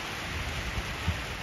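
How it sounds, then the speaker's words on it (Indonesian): Rain begins falling at a freshwater fishing pond in Sungai Kandis, Klang, a steady soft hiss of drops with faint low patters, no talking. "Nampak, dah mula turun hujan."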